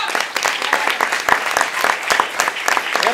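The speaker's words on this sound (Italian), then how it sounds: "Un meritato applauso." A theatre audience applauds after a comedy performance, giving dense, lively clapping with distinct sharp claps standing out up close, sustained throughout.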